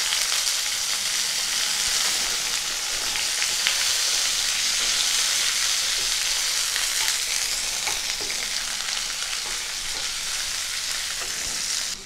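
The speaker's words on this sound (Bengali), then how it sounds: "রসুন কুচিটা হালকা ভাজা ভাজা করে নিয়েই দিয়ে দিলাম টমেটোর টুকরোগুলো" Chopped garlic and tomato pieces sizzle steadily in hot oil in a pan, a dense, even frying hiss that continues unbroken with occasional stirring scrapes and no voices.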